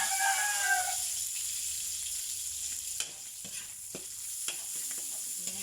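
Shrimp sizzles softly in a pan alongside browned pork chop, a steady low frying hiss with a few light clinks of stirring, no talk.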